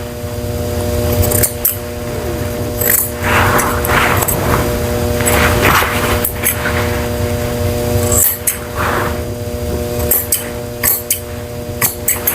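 Scissors snip repeatedly around a matted Cockapoo's eyes during grooming, a series of close, crisp cuts in short clusters over a steady background hum.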